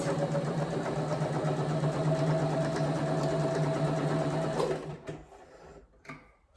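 A sewing machine runs steadily while stitching quilt binding, a close, even mechanical hum for about five seconds that then slows and stops, followed by a few soft handling knocks.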